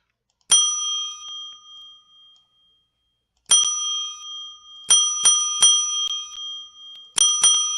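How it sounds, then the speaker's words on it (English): Bright chiming bell clicked in the Poptropica game on Super Power Island, in the Masks and Capes shop: one ring, a pause, then a quick burst of repeated dings, each ringing out clearly with no talk. "You can just click that bell."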